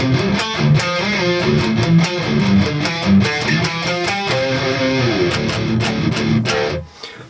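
Electric guitar on a distorted crunch channel chugs out rhythm chords in a tight, driving pattern, loud and close with sharp palm-muted attacks, before the final chord cuts off and rings briefly.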